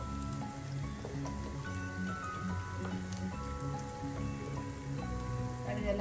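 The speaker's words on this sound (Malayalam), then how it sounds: "അതേ എണ്ണയിൽ തന്നെ നമുക്ക് 1/2 ടീസ്പൂൺ കടുകിട്ട് പൊട്ടിക്കാം" Half a teaspoon of mustard seeds spluttering and popping in hot oil that was used before, for a prawn and small onion varattiyathu, a dense steady crackle of small pops lasting throughout with no talk.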